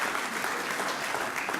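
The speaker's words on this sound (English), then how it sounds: "Oh, big round of applause for Adnan." Applause at the Abu Dhabi 2017 President Cup press conference: a room of people clapping steadily and fairly loudly throughout.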